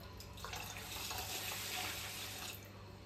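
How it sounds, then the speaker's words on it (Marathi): A glass of water poured into a pot of rice makes a steady, close splashing gush lasting a few seconds, loud and alone without any voices. "त्यानंतर दुसरा ग्लास पण पाणी टाकू आपण."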